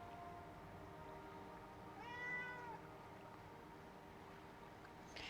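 A single cat meow, faint and fairly close, rising and falling over about half a second against a quiet steady background hum, with no talking.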